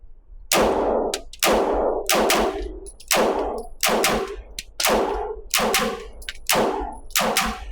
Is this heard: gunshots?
yes